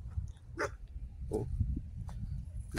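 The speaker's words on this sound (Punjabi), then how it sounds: "ਇਹ ਵੀ ਅਵਾਰਾ ਕੁੱਤੇ ਬਹੁਤ ਆਏ ਹੋਏ ਸਾਡੇ ਇਲਾਕੇ 'ਚ" Stray dogs bark in a neighbourhood, three or four short yips and barks spaced about half a second apart at a moderate distance, over a low steady background rumble.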